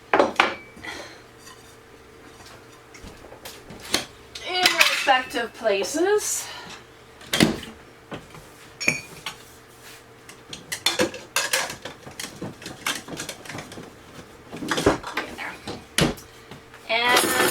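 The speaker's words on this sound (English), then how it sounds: "So one of the things I do is put away all the dishes" Dishes, pots and cutlery are put away in a kitchen, making scattered clanks, clatters and bangs throughout, some sharp and close, while a person talks at intervals.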